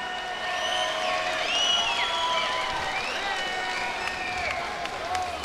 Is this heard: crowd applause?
yes